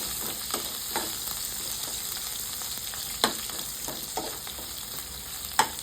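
Spices fry for bommidi fish curry in a steady, close sizzle, with occasional clinks and scrapes from stirring breaking through the hiss, and no voices.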